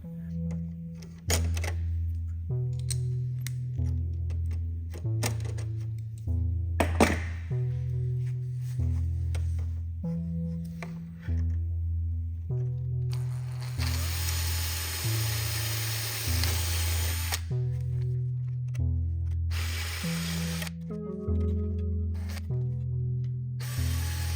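A power tool deburrs a metal part for a RANS S-21 aircraft elevator in a workshop, sounding as a steady tool whine over music with a low repeating beat. It swells into a louder burst near the middle.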